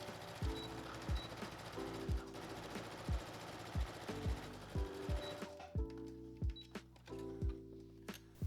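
Home sewing machine stitching across a folded seam on a winter coat sleeve, running in a steady series of rhythmic mechanical thumps and whirring bursts, close and clear, with a brief pause partway through.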